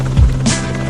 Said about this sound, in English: Atlanta's Department of Natural Resources rushes a helicopter to the scene.